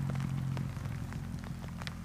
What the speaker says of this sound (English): Uh-oh, the rain's coming.